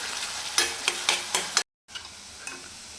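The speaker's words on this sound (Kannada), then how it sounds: "ಇವಾಗ ಚೆನ್ನಾಗಿ ಫ್ರೈ ಆಗಿದೆ ಈರುಳ್ಳಿ" Onions frying golden in a pan for paneer masala gravy, a close crackling sizzle punctuated by quick rhythmic spatula scrapes, then a brief dropout of sound before the soft sizzle resumes.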